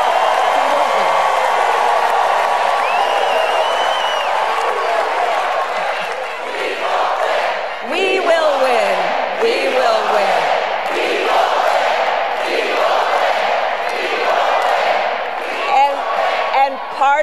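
A packed crowd cheering at a Kamala Harris rally: a loud, sustained roar of many voices with shouts and whoops rising above it, and a near voice speaking over the noise.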